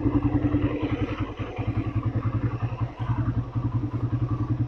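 A 2015 Suzuki Satria FU motorcycle idles smoothly nearby with an even, rapid, pulsing engine beat that stays loud and steady throughout, with no talk.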